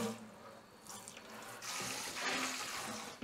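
Water poured from a tap or container into a bucket for mixing wall plaster, a quiet splashing trickle that grows fuller and louder in the second half.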